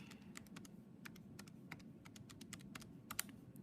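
Quick, light keystrokes on a computer keyboard, close and fairly soft, tapping in short irregular bursts for a few seconds with no talking.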